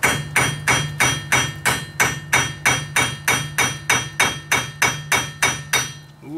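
A hammer strikes a stuck metal car part in a steady run of about seventeen sharp, ringing blows, evenly spaced and fairly loud.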